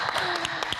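A studio audience on a talk show claps for a singer, a dense patter of many hands with a host's voice cutting in over it in this brief burst.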